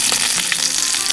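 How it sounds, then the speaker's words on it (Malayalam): Mustard seeds and curry leaves sizzle in hot oil for a Kerala-style payar thoran tempering, a loud, steady, crackling hiss filling the whole brief moment. "കടുക് പൊട്ടി വരുമ്പോഴത്തേക്കും നമുക്ക് കറിവേപ്പില ഇട്ട് കൊടുക്കാം."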